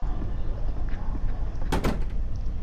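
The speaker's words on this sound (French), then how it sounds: "il a refermé la porte" A door swings shut in the horror game Intrus, one short, fairly loud thud-and-latch burst cutting through a steady low ambient rumble.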